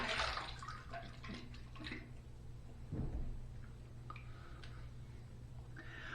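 A razor is rinsed under running water, a steady close splashing and trickling stream with small knocks and drips breaking through, moderately quiet and with no talking.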